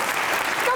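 Studio audience applauding at a Pakistani comedy show, a dense, steady burst of clapping that fills the whole moment.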